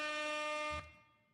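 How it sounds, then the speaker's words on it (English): A single loud, blaring air horn blast held for under a second, then cutting off with a short fading tail. "Air horn is the closest horn I had."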